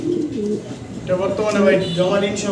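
A pair of Black Danish fancy pigeons coo close by in a loft, several soft, throaty rolling coos, some overlapping, while someone talks over them.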